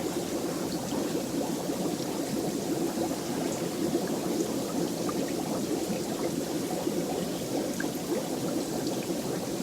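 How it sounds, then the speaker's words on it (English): Water stream flowing into a covered fish pond used for breeding bushy nose fish, a continuous close splashing and trickling rush that holds steady at even loudness throughout. "it's picking up the water stream"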